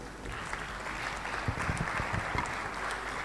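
Applause for panelists at an innovation week opening ceremony, a moderate wash of clapping from a seated audience in a large room, fairly even throughout with a few closer claps.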